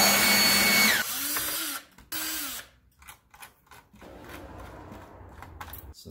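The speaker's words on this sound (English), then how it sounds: "I'm going to give this a blow with my leaf blower" A leaf blower blasts dust out of an opened PS3 console with the yellow light of death fault, giving a loud, close roar for about a second, then a second short burst before it cuts off into quiet handling noises.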